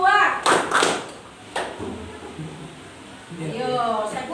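Children in a classroom clapping in a counting clap game: a couple of quick bursts of hand claps followed by a single clap, with a voice leading before and after.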